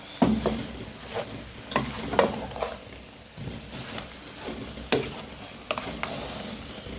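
Yam and vegetables with ugba (African oil bean seed) are stir fried in a pot: irregular scraping and clacking stirring strokes over a soft sizzle, close by.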